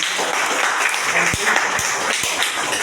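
A seminar audience gives loud, continuous applause, a thick wash of clapping with a few sharper individual claps standing out near the front.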